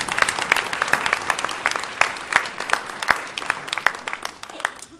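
A church congregation at a 40th anniversary celebration breaks into applause, many hands clapping in a lively, uneven patter with sharp individual claps standing out.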